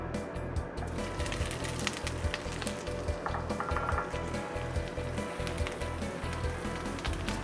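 One finely chopped sweet onion sizzles steadily in about two teaspoons of extra virgin olive oil in a skillet, a dense, continuous frying hiss up close, with faint utensil scrapes and no talking.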